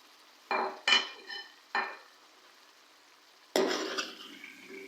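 Pieces of fish dropped into hot masala in a pan for a Lahori fish fry, a few separate sizzling thuds and clinks, then a louder burst of frying near the end, close with no talk.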